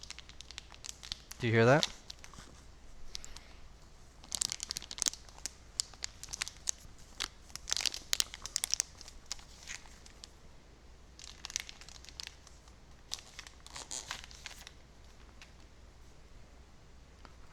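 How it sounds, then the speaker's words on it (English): Plastic wrap being peeled and crinkled off a new Nintendo Switch 2 console, in scattered crackly bursts with pauses between them, close by, while a person talks. "I'm going to unwrap the Switch, because I've kept it in the plastic."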